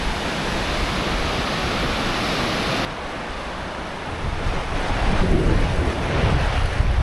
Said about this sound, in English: This is a fast flowing river.